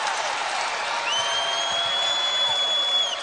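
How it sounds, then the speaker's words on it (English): A women's college basketball crowd at Indiana's Assembly Hall against Purdue roars and applauds in a dense, sustained wash, with a whistle-like tone above and commentary beneath. "Now this Assembly Hall crowd starting to put it on"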